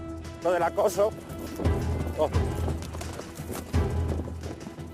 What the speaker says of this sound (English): This is how the conquistadors would have ridden their horses.